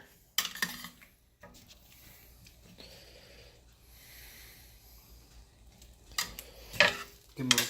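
Firm potatoes stirred in a pan beside a resting pork loin: a soft, scraping shuffle with a faint sizzle, broken by a few louder clinks of utensil against the pan near the start and end.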